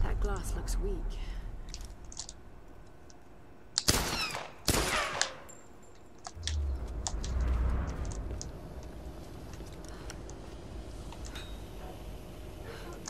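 Two or three sharp, loud shots ring out in Tomb Raider amid quieter clicks and rustles, over a low game background with some speech mixed in.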